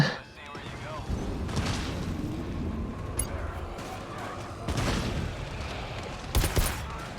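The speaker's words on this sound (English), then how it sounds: "I just shot one of you in the back of the head" Gunfire in the video game GTFO, several sharp bursts of shots cracking over a dense, steady game soundscape, with a loud cluster near the end and people talking over it.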